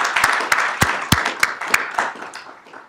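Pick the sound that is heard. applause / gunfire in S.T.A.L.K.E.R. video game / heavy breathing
applause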